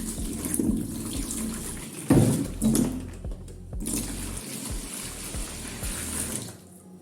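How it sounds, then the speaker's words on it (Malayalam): Hot water pouring into a basin holding laundry soap powder, a close, steady splashing stream with a few louder gushes and knocks, fading at the end. "ഇനി നമുക്കിതിലേക്ക് കുറച്ച് ചൂടുവെള്ളം ഒഴിച്ചു കൊടുക്കാം"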